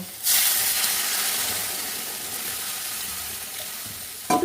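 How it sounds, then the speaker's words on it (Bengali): Water is poured into a hot kadai of oil while cooking jackfruit kofta curry. A sharp sizzle bursts out at once, then settles into a loud, steady steaming hiss close by. "এইবার এর মধ্যে জল ঢেলে দেবো"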